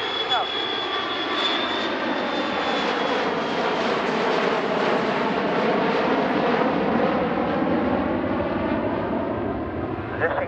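A Boeing 737 jet airliner makes a slow, low pass at an air show in landing configuration, its engines roaring loud and steady throughout, with a commentator talking over it.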